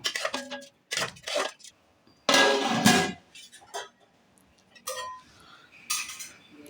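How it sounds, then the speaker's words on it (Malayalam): Washed thin rice tipped into a pot for ghee rice, making a loud grainy rush of about a second, with scattered clinks and taps of utensils before and after. "ഇത് ഞാൻ കഴുകി വെച്ച നേരിയരാണ് ഇതിലേക്ക് ചേർത്ത് കൊടുക്കുന്നത്"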